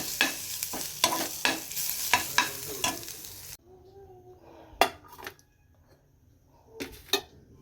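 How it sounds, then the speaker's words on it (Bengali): Onion, green chili, nigella seeds and garlic fry in a pan for a mashed potato and boiled egg dish, with a soft sizzle broken by sharp scrapes and clinks of a spatula stirring against the pan. "পেঁয়াজ কাঁচা লঙ্কা কালো জিরে রসুন এগুলো দিয়ে মাখবো তাই সব ভালো করে ভেজে নিচ্ছি"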